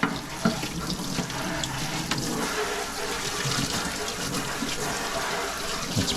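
Tap water runs steadily over a removable part of a Saeco espresso machine, a continuous splashing rinse under a faucet with no talking.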